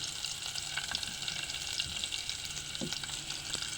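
Onion sizzles and fries in a hot pan for sinigang na bangus, a steady bright crackle with occasional stirring scrapes, close and continuous, with no talk.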